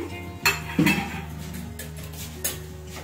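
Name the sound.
adding turmeric and stirring vegetables in a pot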